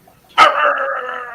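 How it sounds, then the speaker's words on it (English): A dog lets out one sharp bark that stretches into a drawn-out, whining howl lasting about a second, close and fairly loud, with no talking. "Dogs have stopped barking."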